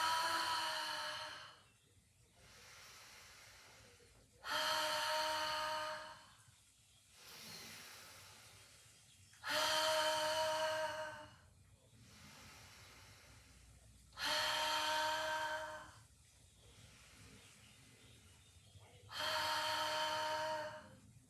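Slow, paced breathing exercise during a yin yoga session: audible breaths in through the nose and out through the mouth, about five loud airy exhales alternating with softer inhales, close and unaccompanied by speech.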